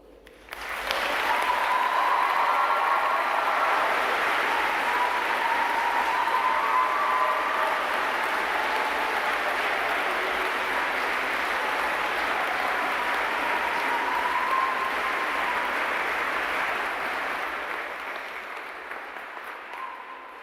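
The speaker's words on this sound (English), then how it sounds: "show our joint appreciation of the unwavering commitment of all of our staff with a big round of applause" Sustained applause from a graduation ceremony audience at the University of Chichester, honouring university staff, rising quickly and holding steady and loud for about sixteen seconds before tapering off.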